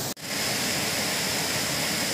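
Waterfall in Karura Forest, Nairobi, Kenya, a steady broadband rush of falling water that stays loud and close throughout, broken only by a brief dip near the start.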